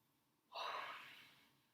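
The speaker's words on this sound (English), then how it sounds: "Watch my stomach this time while I yawn." One long, breathy yawn, close and soft, swelling quickly and then tapering away.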